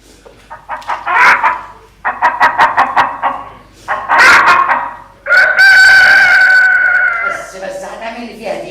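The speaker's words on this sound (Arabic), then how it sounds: "ديك رزل" A rooster in an Egyptian Arabic comedy video game crows loudly in several bursts, rising into a long drawn-out final call with clucking-like accents, close and prominent with no speech over it.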